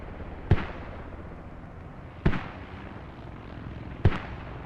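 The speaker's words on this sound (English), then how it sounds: "Oh, there's mortars from uppers as well" Mortar fire in the video game Squad: three sharp, booming impacts spaced about two seconds apart, each a sudden burst that fades into steady low background rumble.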